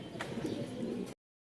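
A pair of Lotan pigeons coos in low, murmuring tones close by, the sound running steadily for about a second before cutting off abruptly.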